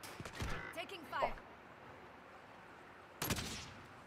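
Enemy gunfire cracks in a video game firefight: a few sharp bursts early, then another loud volley near the end, with a voice talking quietly in between.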